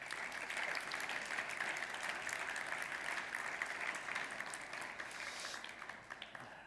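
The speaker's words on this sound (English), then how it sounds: "So may I ask you to honor him with a round of applause." Steady audience applause at a travel-industry convention opening, a dense patter of many hands held at an even level for several seconds before tapering slightly at the end.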